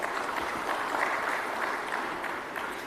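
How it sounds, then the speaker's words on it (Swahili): An audience applauds at the closing ceremony of the 8th Tanzania Annual ICT Conference, a dense, steady wash of clapping from a large crowd that holds at an even level throughout. "tujipigie makofi wenyewe."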